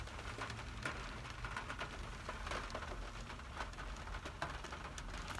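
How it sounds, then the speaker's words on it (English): Heavy pouring rain patters steadily outdoors with a constant hiss and scattered drop impacts, moderately loud with no voices. "It's pouring rain."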